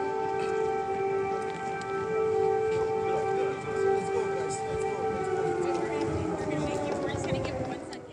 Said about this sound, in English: Air sirens were sounded at that moment.